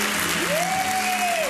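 Warm applause from a Hollywood audience as Lauren Bacall receives an honorary Oscar, steady clapping throughout while a voice speaks over it.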